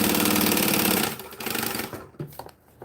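A sewing machine runs fast while stitching a possum pouch, a dense steady whir for the first second, then shorter uneven bursts and stops that taper into quiet handling noises.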